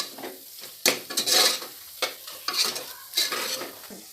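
Chili, coriander, curry masala and turmeric powders sautéed in a pan for mushroom biryani, with repeated close spatula scrapes and stirs over a soft steady sizzle, no voices.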